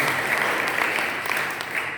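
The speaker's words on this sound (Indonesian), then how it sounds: "Tepuk tangan dulu." A church congregation at a young adults' worship service claps together, a steady, dense patter of many hands filling the room at moderate loudness, with no clear talk.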